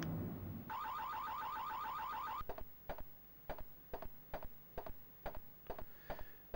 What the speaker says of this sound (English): Know where the alarm is.